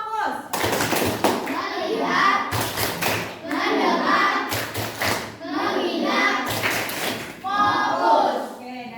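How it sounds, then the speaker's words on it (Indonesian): Classroom in Indonesia where students perform a rhythmic focus clapping pattern, several sharp bursts of group claps separated by pauses, close and loud, mixed with children's voices chanting along. "Tepuk fokus. Melihat. Mendengar. Mengingat."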